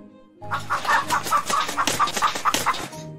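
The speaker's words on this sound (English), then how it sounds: "It squawked loudly and flapped its wings." A chicken squawks loudly in a rapid run of harsh, pulsing clucks, close and frantic, with the flurry of flapping wings mixed in.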